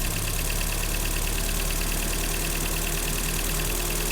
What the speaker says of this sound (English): So something is causing the idle to fluctuate up and down based off parameter.